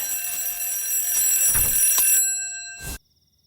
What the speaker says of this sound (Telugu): ఊరందరినీ లేపడం కోసం అలారం పెట్టిందా?